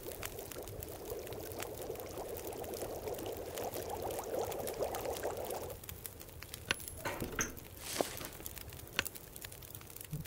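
Water heats over a wood fire in The Long Dark, and a steady bubbling, pouring rush fills the first half. It then gives way to quieter intermittent clicks and crackles, with no talking.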